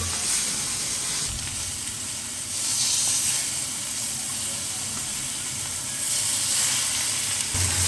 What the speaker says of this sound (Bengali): উল্টিয়ে পাল্টিয়ে মাছ ভেজে নিতে হবে